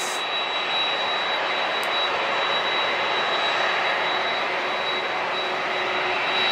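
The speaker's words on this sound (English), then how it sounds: "Just pulling out for takeoff is" A Sun Country Boeing 737-8 jet at San Diego International taxies out for takeoff, its engines giving a loud, steady broadband roar with a faint high whine running through it.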